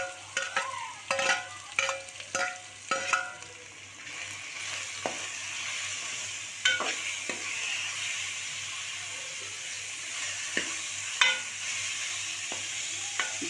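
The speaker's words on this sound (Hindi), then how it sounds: "इसके बाद मैं इसके अंदर ऐड करूँगी ये कीमा चिकन का" Minced chicken frying in a pan over low heat and being stirred, with a soft continuous sizzle and repeated scraping strokes of a spoon, sharper and busier at first and then sparser, with no talking.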